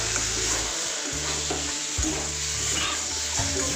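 Curry sauce for an egg curry cooking in a heated wok gives a steady, loud sizzle with occasional stirring scrapes, heard alone without voices.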